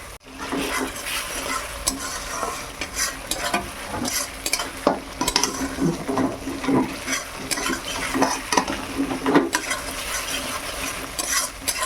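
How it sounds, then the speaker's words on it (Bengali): Onions frying in a pan until darkened, with a steady, close oil sizzle and repeated scraping and clinking of a spatula as they are stirred, no voices. "পেঁয়াজটা ভালো করে ভেজে নেই।"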